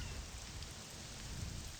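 Steady rain falls in the Morrowind video game near a tower, a soft, even hiss of drops that continues without a break and with no voices.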